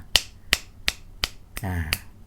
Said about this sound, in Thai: ได้ยินเสียง ดีดนิ้วที่ดังขึ้น